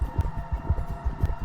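A human heart item in the video game Lethal Company pounds fast in its high action phase, low muffled thumps in quick succession over a steady droning background.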